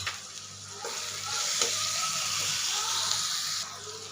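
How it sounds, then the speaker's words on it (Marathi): Chopped onion and tomato sautéing in a pan for egg bhurji, a continuous sizzle that swells louder partway through, with stirring scrapes and a faint background voice. "कांदा टोमॅटो छान असा परतलेला आहे।"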